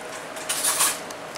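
A metal teaspoon is pulled from a kitchen sink, giving a brief, bright clatter of cutlery against other utensils and dishes, close by and alone.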